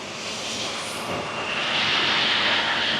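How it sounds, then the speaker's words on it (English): Airbus A320 engine 2 runs steadily during a starter function test, a loud continuous jet-engine roar with a broad hiss that swells slightly toward the end, with no voices over it. "we perform engine run to test the full function of the starter"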